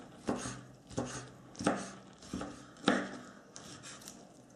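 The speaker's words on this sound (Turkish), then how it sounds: "Yumurtalarımız yarım olarak haşlandı. Şimdi ufak ufak bu şekilde doğrayacağız" Knife chopping half-boiled eggs into small pieces on a board, about six distinct cuts in a steady, unhurried rhythm, close and fairly soft, with no talking.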